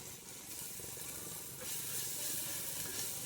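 Onions and tomatoes frying in a pan as ginger is added, giving a steady close sizzle and hiss that swells a little louder midway, with faint stirring underneath.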